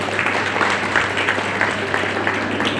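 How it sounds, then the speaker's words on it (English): An audience applauds at a workplace excellence awards ceremony, with continuous, fairly loud clapping from a crowd heard close up. "let's give a round of applause for yourself"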